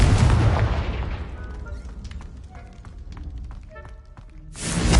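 A magical fire-spell blast in the video game Hogwarts Legacy opens with a loud, full boom that fades over a couple of seconds into crackling game effects, and a second burst rises at the end.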